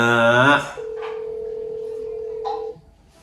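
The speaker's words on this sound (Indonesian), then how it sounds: "Yuk kita telepon." Telephone dialing tones on a radio call-in line: a single long steady tone runs alone for about two seconds after a brief burst of a voice, then cuts off.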